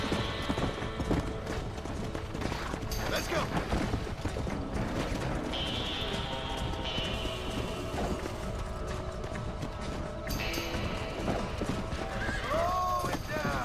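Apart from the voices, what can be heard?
horse galloping and neighing in the video game Red Dead Redemption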